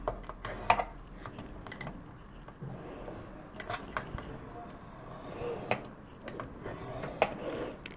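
A punch board scoring tool marks fold lines in paper, producing faint scattered ticks and light scraping clicks at close range over a quiet background.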